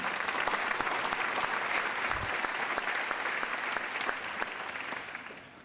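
Sustained applause from a large crowd at Stanford opening remarks, dense and steady throughout, gradually thinning toward the end.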